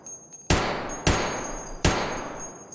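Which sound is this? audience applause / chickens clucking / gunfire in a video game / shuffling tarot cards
gunfire in a video game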